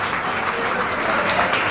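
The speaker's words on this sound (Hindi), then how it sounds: "ताली बजती रहनी चाहिए" Applause breaks out for a student's top-ranked JEE Advanced 2022 result at a Kota coaching celebration, a steady, dense crowd clapping that holds at full strength throughout.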